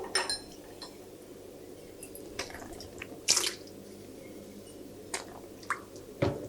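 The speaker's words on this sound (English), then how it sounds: "now pipette out 20 ml of water sample." A 20 ml water sample pipetted into laboratory glassware, faint drips and small glassy clinks scattered over a quiet background hum.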